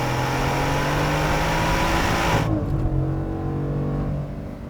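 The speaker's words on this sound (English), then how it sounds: "Let's just give this thing a solid thrashing real quick and see how she does." A 2021 Ford F-150 with a 5-liter V8 and 10-speed transmission accelerates hard, its engine note climbing steadily through a gear, then cutting off sharply as the revs drop and the sound settles lower.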